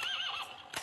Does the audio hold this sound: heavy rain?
no